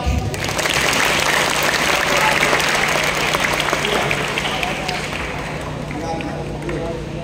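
Applause from a large crowd of junior high school students at a school assembly in Cilincing, North Jakarta, steady dense clapping filling the whole stretch with crowd noise, slowly easing toward the end.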